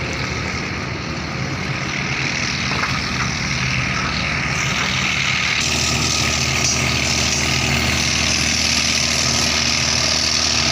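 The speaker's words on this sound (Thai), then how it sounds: "เดี๋ยวเขาจะพาทุกคนไปเบิ่งเครื่องจักรที่เขาใช้เจาะหินเลย" Engine of a rock drilling machine at a coal mine running at a loud, steady drone. The heavy rumble continues without a break, with a slight shift in tone partway through.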